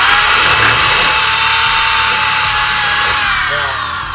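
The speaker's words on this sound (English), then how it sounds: "So I'll show you basically how we're drilling these." A power drill bores into pre-marked metal roofing panels laid over wood, giving a loud, continuous high-pitched whine and grinding that eases slightly toward the end.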